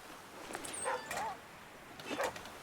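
Dog barking in The Flame in the Flood survival game, a few quick yips and whimpery barks with pitched whines, moderately close, heard over a quiet background.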